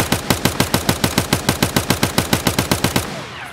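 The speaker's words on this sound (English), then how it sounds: "Let's throw a few more shots down range in single fire just to get a larger sample size." Rifle fire with BT ammo at a target range in the video game Escape From Tarkov, a long string of about twenty loud, sharp shots in a fast, even rhythm, ending with a short fading echo.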